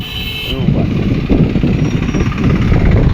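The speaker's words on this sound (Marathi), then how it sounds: "ट्रॅक्टर आला ट्रॅक्टर" Tractor engine rumbling as it passes on a winding mountain ghat road at Shikhar Shingnapur, a loud, steady low drone that stays close throughout, with a voice calling out over it.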